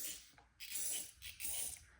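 Cleaner is sprayed into a chainsaw carburetor float bowl in two or three quick, faint hissing bursts with soft clicks of the nozzle between them.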